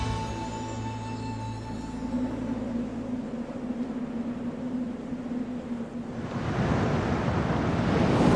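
Pacific Ocean surf and typhoon wind off Taiwan roar as a broad, steady wash, swelling louder and rougher toward the end, with no voices.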